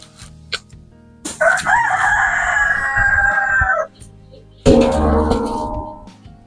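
A pet rooster crows loudly nearby, a long drawn-out call, then after a short pause begins a second crow.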